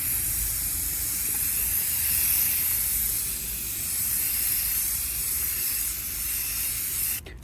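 A spray paint can hisses steadily as light coats go onto a small camper built from a Yaris, a loud, continuous close-up spray that cuts off abruptly near the end.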